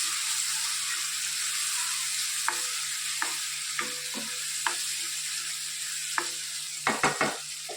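Asafoetida, turmeric and spices sizzle steadily in hot oil in a pan, with a few sharp clinks and scrapes of a spoon stirring, close and clear with no talking.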